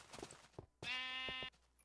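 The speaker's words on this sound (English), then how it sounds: "So somehow a sheep got here." A Minecraft sheep gives one sustained, nasal bleat lasting about half a second, heard clearly and close, with soft footsteps and faint game ambience before and after.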